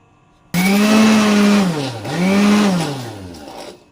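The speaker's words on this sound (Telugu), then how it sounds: "లైట్గా సాల్ట్ వేసి మిక్సీ పడదాము అల్లం ముక్కలు అల్లం ముక్కలు వేసేసి మిక్సీ పట్టేద్దాము" A mixer grinder grinds ginger pieces with salt for mint rice, its loud motor whine running steadily, dipping in pitch midway, then surging back before cutting off, with no talk.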